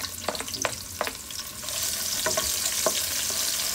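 Onion and garlic sautéing in a pan while preparing bagungon sea snails: a steady hiss of frying rises and fills out midway, with a few sharp stirring clinks and scrapes against the pan along the way.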